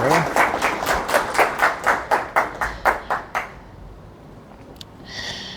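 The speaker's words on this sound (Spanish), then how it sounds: "le damos un fuerte y caluroso aplauso a Juan." Sparse clapping from a small audience welcoming a speaker at a talk, about a dozen distinct, rhythmic claps that fade out after a few seconds, followed by a faint noise near the end.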